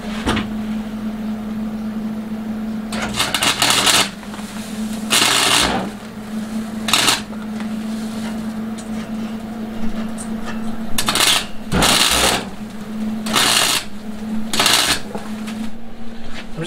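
Tack welding on a thin knife tang held by magnets: a steady low electrical hum broken by several short, crackling bursts of buzzing arc noise, each lasting about a second, close and fairly loud.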